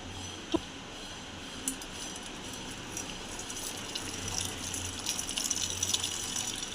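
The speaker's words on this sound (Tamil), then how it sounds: "இப்போ வடிகட்ட போகிறேன்" Tea runs through a strainer in a continuous soft trickling pour, faint and close, with a couple of light clinks at the start and the flow growing slightly fuller toward the end.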